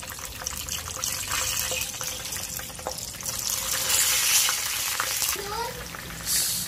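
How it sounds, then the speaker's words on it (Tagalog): Eggplant slices sizzle and crackle steadily in hot oil, a dense continuous frying hiss with occasional stirring clinks, close and fairly loud, with no talking. "So, magpa-fried na tayo."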